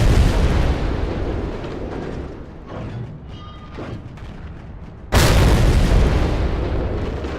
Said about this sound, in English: I'm going to use this Gvozdik artillery piece to launch some shells at neighboring Americans.